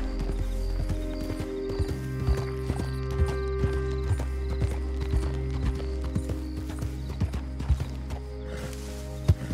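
Horse hooves in the video game Red Dead: steady, close clip-clop of a walking horse over a constant low hum of in-game ambience and music, with occasional sharper thuds.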